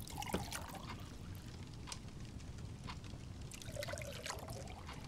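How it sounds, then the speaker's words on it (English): Drink poured from a small silver jug into a glass gives a soft, faint trickle with light splashing and a few bright clinks scattered through the pour. "a small silver jug floating around the table as it magically pours everyone's favorite drink into their glass"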